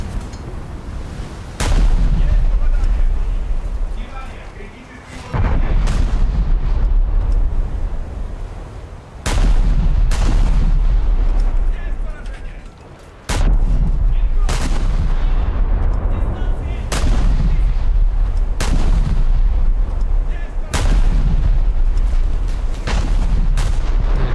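Battleship guns fire in a naval combat game, heavy booming salvos repeating roughly every four seconds, each a loud sharp blast followed by a long rumbling roll, close and dominant.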